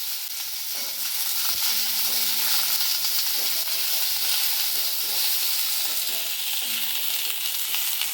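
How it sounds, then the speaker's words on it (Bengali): Onions fry in a pan with a loud, unbroken sizzling hiss that holds steady throughout, and a faint low hum runs underneath at intervals. "এবারে পেঁয়াজটা দেবো, পেঁয়াজটা আমি ভেজে নেবো"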